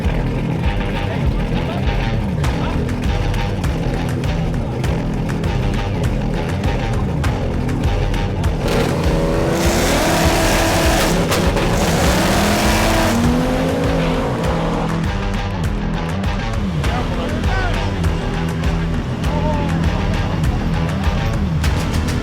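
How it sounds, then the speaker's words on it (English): A GN and a Mustang launch side by side in a Chicago street race, engines roaring loudly and continuously with rising revs and tire squeal mid-run, under crowd chatter and voices. "Next race is Pat in the GN versus Pete from DA in the Mustang."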